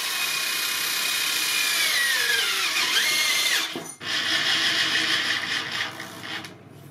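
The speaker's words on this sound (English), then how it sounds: "Is the hardox just beating up the drill bits?" Drill bit grinding into Hardox steel with a continuous high whine that dips and wavers under strain, breaks off briefly partway through, then resumes and fades.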